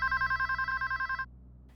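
A telephone rings at a police station, a bright electronic trill pulsing in rapid even bursts for just over a second before stopping abruptly, loud and close over a low background hum.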